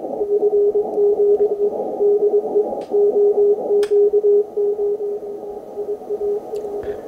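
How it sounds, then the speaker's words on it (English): Steady shortwave radio hiss and crackle on the 160-metre band, received on a transmit antenna, with a continuous interrupted tone running through it, broken by a few sharp clicks; no voices. "Much noise on TX antenna 160."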